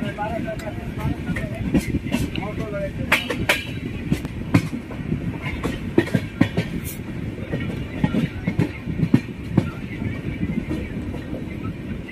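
A passenger train on the Darbhanga to Kolkata route rolls into Jhajha station, a steady rumble with rhythmic wheel clicks and occasional sharp clanks, loud and continuous, with voices talking over it.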